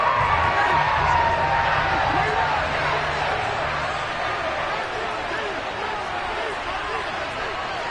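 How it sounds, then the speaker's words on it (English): A stadium crowd in the Madden 23 American football video game roars and cheers for the defense, a steady loud wash of noise beneath a commentator talking. "How about some applause for the defense there?"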